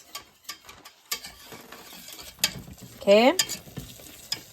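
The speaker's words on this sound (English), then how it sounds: "You're just going to pour a little bit in there. And you're going to whisk that good." A whisk scrapes and clicks around a pan as chicken stock is worked into thickening homemade gravy, rapid close metallic strokes with a few soft bubbling sounds and a brief spoken word.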